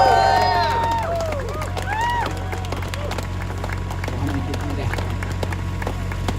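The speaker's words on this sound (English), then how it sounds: "please give a warm round of applause and show some love to Representative Ansari" A crowd at an outdoor People's State of the Union rally near the U.S. Capitol applauds and cheers for Representative Ansari, dense sustained clapping mixed with whoops, whistles and shouting voices, loudest at the start and steady throughout.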